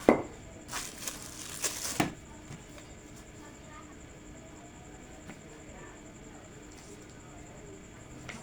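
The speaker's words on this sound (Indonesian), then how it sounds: "kita siap untuk iris tempe" A knife slices through tempeh on a board in a home kitchen, a quick cluster of crisp cutting strokes early on, then near-quiet with only soft room noise.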